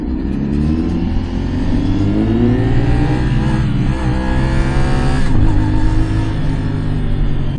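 A Kawasaki 450NK motorcycle engine revs hard on an expressway, a loud, sustained roar with rising and falling pitch across several gear changes, heavy wind rush underneath and no talk.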